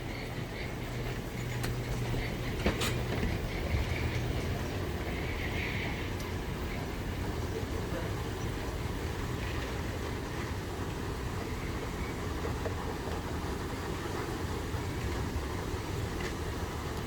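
Steady low rumble and hum of an underground people-mover train riding between concourses at Atlanta airport, continuous throughout with faint rattles and no voices.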